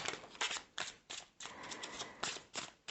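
Tarot cards are shuffled and riffled repeatedly in quick, crisp bursts, close up and fairly quiet, with no talking.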